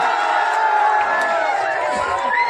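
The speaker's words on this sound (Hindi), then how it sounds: "जोरदार तालियों से स्वागत।" A crowd at a Republic Day school ceremony and prize distribution gives a loud welcome, a steady dense roar of cheering and shouting voices with some whoops rising above it, continuous and close.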